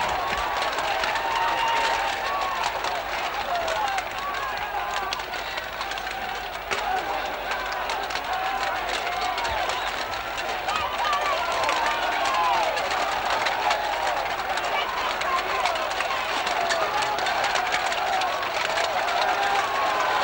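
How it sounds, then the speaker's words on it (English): A rioting crowd, a dense, continuous roar of many voices and movement that stays loud and unbroken throughout, with voices mixed into the din. "For more than 2 hours, the riot did not subside for a moment."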